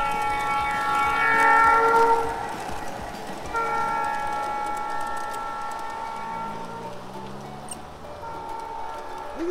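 A train rumbles past, horn blaring loudly early on before fading to a drawn-out tone over the steady roar of the cars.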